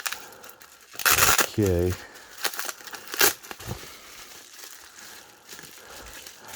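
A parcel holding a dip-pen ink bottle is cut open and unwrapped, giving close, loud bursts of crinkling and tearing packaging with a short slicing rasp, followed by quieter rustling, while someone speaks briefly.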